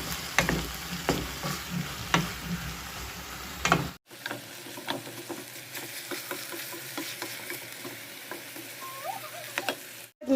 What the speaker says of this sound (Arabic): نكمل نقلي كامل هذه المكونات.